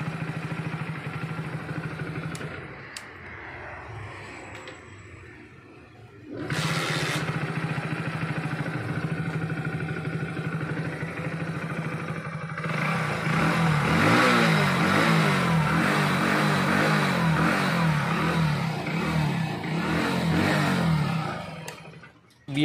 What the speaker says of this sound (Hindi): दोस्तों एक ही किक के अंदर गाड़ी स्टार्ट हो जाएगी।